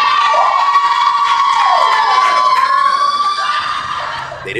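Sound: audience cheering and making noise

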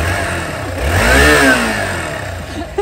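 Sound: motorcycle engine being started and revved

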